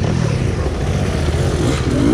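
Dirt bike engines growl loud and close on a muddy trail in Zamboanga City, a continuous rough rumble that shifts pitch slightly as the throttle changes, with no voices.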